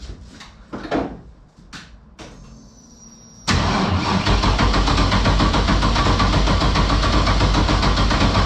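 A few short bursts of engine cranking and clunks from a 5.3 V8 swapped into a GT86, then the engine roars to life and runs loudly and steadily.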